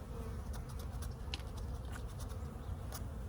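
Honeybees swarm around an opened hive in a constant, close, droning buzz with no break, scattered faint ticks and rustles riding on top of the even hum.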